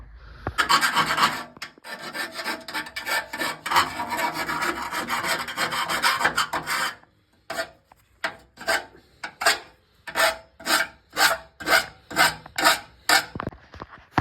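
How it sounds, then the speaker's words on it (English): Metal file deburring a freshly ground edge on a B-series AWD Civic intercooler job: a dense run of close, harsh rasping strokes, then after a short pause a slower series of distinct, evenly spaced scrapes, with no talking. "we will go ahead and file it and deburr it"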